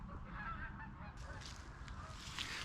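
Geese honk repeatedly in short bursts over a steady low background rumble, fairly close and moderately loud.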